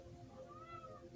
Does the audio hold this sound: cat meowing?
yes